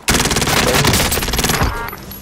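Rapid automatic gunfire from a Call of Duty: Modern Warfare match bursts out loud and close, a dense sustained volley that runs about a second and a half before tailing off.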